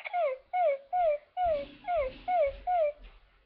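A small puppy whimpers in seven evenly spaced, high, falling whines, close and clear against a quiet background.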